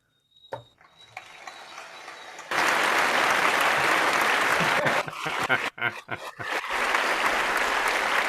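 Hands clap in a fast, continuous burst, loud and close, after a quiet start with a couple of faint taps; the clapping breaks up briefly near the end.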